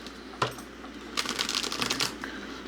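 Tarot cards shuffled by hand in a few quick riffling bursts, crisp papery flutters with a sharp tap near the start, close and fairly quiet with no voice over them.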